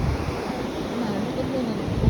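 Ocean waves wash onto a sandy beach in a continuous low rush mixed with wind buffeting the microphone, steady and moderately loud.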